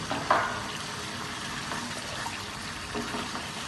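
Tomato puree poured from a cup into chicken frying in a pan, a steady, fairly loud broadband wet sizzle and splatter running the whole time with one brief pouring burst near the start.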